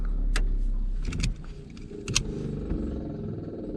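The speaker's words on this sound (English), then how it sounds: "that's the transmission spinning after we shut it off" A low mechanical whirring and grinding, close by, with scattered clicks and rattles as a faulty transmission in a truck with a 6.0 L turbo diesel keeps spinning down after the engine stops.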